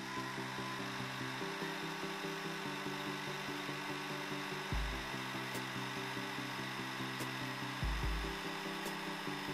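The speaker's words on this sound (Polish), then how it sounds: "Na początek suszarka do włosów o mocy nominalnej 300 W" A 300 W hair dryer runs continuously with a steady whirring motor hum and airflow hiss, close and even, with a couple of brief low thumps partway through.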